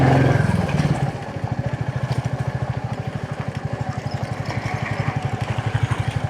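A motorcycle engine idles close by with a steady, rapid chugging pulse that holds even throughout, no voices over it.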